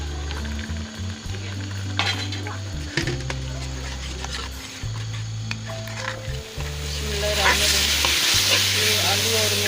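Potato pieces sizzle and fry in hot oil with spices in a pan while being stirred, the crackling frying steady and close, broken by scraping stirs, with a low humming tone running underneath.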